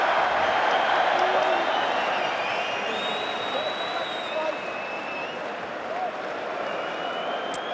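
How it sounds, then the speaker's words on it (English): A boxing arena crowd at the Anthony Joshua vs Joseph Parker fight applauding and cheering in a dense, sustained roar with a few whistles, slowly easing off, while a voice talks over it. "This is called a crowd."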